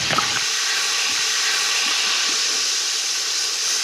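Hot pan of lamb hissing loudly as white wine is poured in to deglaze, starting with a sharp sizzle that settles into a steady, close steam hiss.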